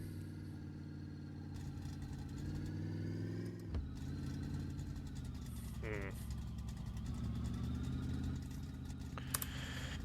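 A car with a Slant 6 engine drives along, its steady mid-pitched engine drone holding close and even, with a brief dip and shift partway through, then a small rattle near the end.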